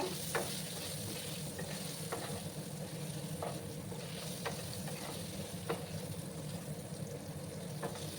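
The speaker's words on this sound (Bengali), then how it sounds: "দিয়ে ভালো করে আমি আলুগুলোকে একটু ভাজবো।" Potatoes with turmeric and salt fry in a pan, a steady close sizzle running throughout with light periodic stirring scrapes and clinks every second or so.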